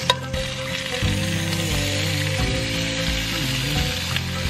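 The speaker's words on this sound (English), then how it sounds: "Do you want to cook some more bacon" Bacon frying in a pan at a home dinner cooked in the dark, a steady close sizzle and crackle running throughout, with faint clinks of stirring and no talk.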